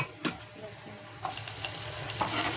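Mustard seeds crackle and sizzle in hot oil for a tempering along with onion, garlic and spices, a soft stir at first, then a louder, steady frying hiss with scattered pops.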